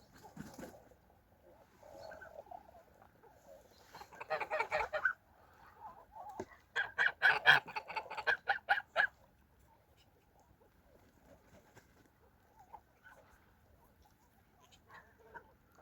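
Kholmogory and Tula fighting geese honk in a farmyard, in two clustered bursts of calls at a moderate distance, with quiet stretches of faint rustling between them.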